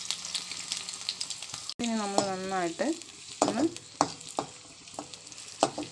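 Onion, garlic and ginger fry in hot oil for fish curry with a close, continuous sizzle and intermittent stirring clatter, while a person talks over the cooking.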